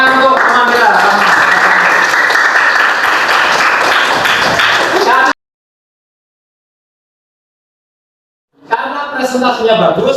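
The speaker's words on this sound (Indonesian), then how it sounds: "Tepuk tangan untuk teman kita." A classroom of students applauds a classmate with steady, close clapping mixed with voices for about five seconds, then falls silent, and the noise starts again near the end.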